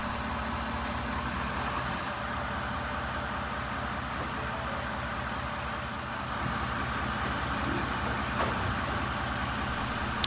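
A truck engine idles in a steady, even drone while the vehicle eases slowly into a garage, with no talk over the sound.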